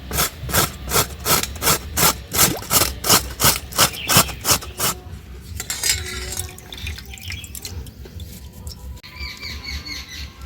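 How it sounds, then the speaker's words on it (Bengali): A carrot grated by hand for veg patties, with about a dozen quick, steady rasping strokes, loud and close, followed by softer scraping and handling noises. "এখানে একটা গাজর আমি গ্রেট করে নেব"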